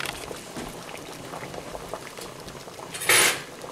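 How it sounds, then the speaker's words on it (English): Eggs boiling in a pot of water, a soft, steady bubbling with small clinks and splashes, then a louder burst of hiss and splash near the end. "put our eggs in cold water and bring them to a boil and let them boil for about 8 to 10 minutes"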